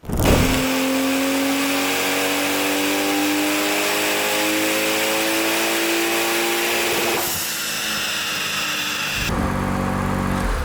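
A BMW E46 Touring with a swapped B58 engine runs at full throttle on a dyno, a loud sustained roar rising steadily in pitch for several seconds before the revs drop off, then a brief second surge near the end.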